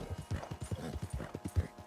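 Hooves of a large buckskin Kentucky Saddler horse clip-clop in a video game, a quick, steady rhythmic patter of close, distinct hoofbeats throughout.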